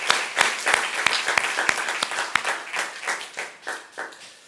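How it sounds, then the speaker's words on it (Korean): A church congregation at a Sunday youth worship service claps for its young volunteers, starting as brisk, crowded applause with sharp individual claps, then thinning and fading out. "우리 수고한 청년들을 위해 격려하며 박수하겠습니다"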